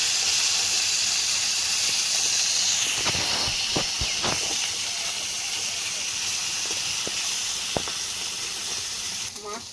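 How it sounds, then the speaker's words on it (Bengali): Fish fries over a wood-fired stove with a steady, fairly loud hiss and sizzle, broken by a few crisp spits and crackles, and a voice talks briefly in the middle. "কাঠের জালে তো আর দারুণ ভাজা হচ্ছে মাছটা"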